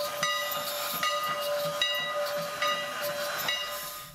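Strasburg Rail Road steam locomotive 89 moves into position at the Groff's Grove passenger stop, with a steady hiss of steam, a sustained whistle-like tone and rhythmic chuffing and clanks, moderately distant and fairly quiet.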